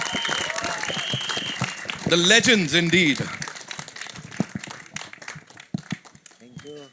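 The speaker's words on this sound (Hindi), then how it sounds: "अब्बास मस्तान साहब के लिए जोरदार तालियां" Crowd applause at a Bollywood film trailer launch event, bursts of clapping and cheering mixed with music stings and an emcee speaking over it.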